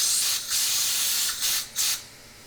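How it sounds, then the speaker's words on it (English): Compressed air sprays over pump plunger parts on a workbench during cleaning, a loud steady hiss with a few brief surges in strength. "Clean the parts with solvent and compressed air."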